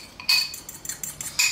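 Pasta salad with chicken being mixed through a mayonnaise dressing in a bowl, giving several short clinking and scraping bursts from a utensil against the bowl, close and fairly loud, with brief pauses between strokes.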